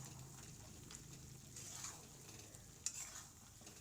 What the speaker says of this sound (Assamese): পালেং শাকৰ গুড়িখিনিৰ লগত এতিয়া মই মাংসখিনি পানী নুশুকোৱালৈকে ভালকৈ ভাজি ল'ম